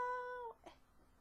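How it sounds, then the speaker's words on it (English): Cat in the background giving a single faint, short meow, a brief tonal cry that fades out quickly in an otherwise quiet room. "that is a cat in the background, just chilling"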